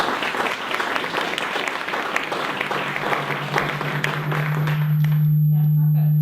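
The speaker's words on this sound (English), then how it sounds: "let's give her a warm round of applause to welcome Heather Swain to LA2M" Warm applause from a seated audience at a university marketing talk, steady clapping that fades out as a loud feedback tone from the microphone rises at the end.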